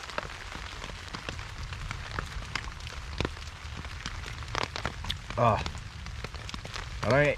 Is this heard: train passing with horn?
no